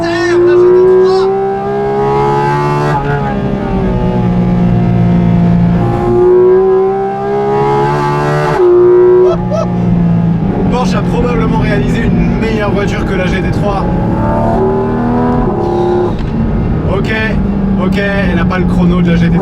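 Porsche GT4 RS sports car engine revving and shifting through rising and falling pulls, loud and close, with a voice talking over it.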